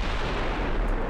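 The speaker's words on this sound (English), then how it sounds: "There's a big caliber gun hit." A large-caliber naval gun shell strikes a ship in Ultimate Admiral Dreadnoughts, producing a heavy, continuous booming rumble that is loud and fills the whole moment with no voices over it.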